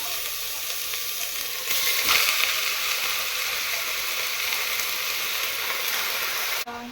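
Mutton frying with salt in a pan for a mutton sambar makes a loud, steady sizzling hiss that swells briefly early on, close up, then cuts off with a clink near the end.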